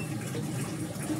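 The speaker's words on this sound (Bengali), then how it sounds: "ভাতের চাল ধুয়ে রেডি করে ফেললাম" Water runs steadily over rice grains being rinsed in a kitchen, a soft continuous wash of splashing and trickling at close range with no talk.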